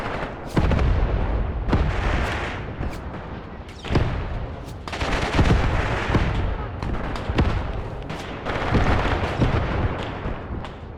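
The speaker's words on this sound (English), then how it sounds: "But they are just getting lit up with that artillery." Artillery fire in the wartime strategy game Graviteam: Pivot Point thunders in repeated heavy booms. The blasts come at irregular intervals among crackling bursts, some near and some farther off, with faint talk at times.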